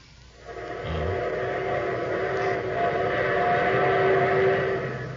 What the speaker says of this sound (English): There's my train.